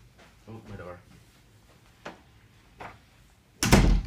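A door bangs loudly near the end, after a few softer knocks and bumps, with people talking and exclaiming earlier on.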